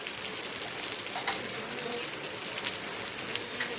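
Two large onions fry in oil in a pan for a chicken curry with yoghurt, a steady close hiss and crackle with small pops scattered throughout, no one speaking.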